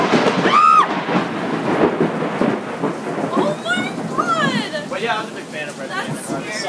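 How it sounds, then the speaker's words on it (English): A thunderstorm in Nashville rolls with rumbling thunder over steady rain, loud and close, while people talk over it. "I've never heard lightning like that. Thunder like that."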